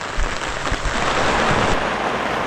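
Heavy monsoon rain pours down at a remote campsite in the West Virginia backcountry, a dense, steady roar of drops on surfaces with a few low thumps, close and loud, no voices.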